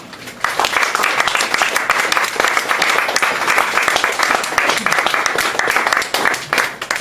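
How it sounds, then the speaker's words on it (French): Audience at a poetry event applauds a guest, Roger Galland, with a sustained, dense round of clapping that starts abruptly after a quiet beat and holds steady for several seconds, loud and close with a few voices mixed in. "je pense qu'on peut applaudir à nouveau M. Roger Galland."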